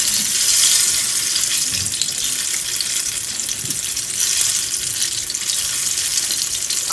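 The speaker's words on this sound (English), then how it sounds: "we fry till a nice golden brown" Banana fritters frying in hot oil, a steady close hiss and crackle of sizzling that runs unbroken throughout.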